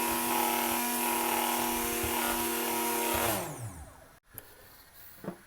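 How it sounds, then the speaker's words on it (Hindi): Blender whirring at steady speed while pureeing vegetables and lentils for soup, a loud continuous motor drone that winds down after about three seconds, followed by a short quiet stretch with small rattles. "इस तरह हमने सब्जियों को और दालों को अच्छी तरह ब्लेंड कर लेना है"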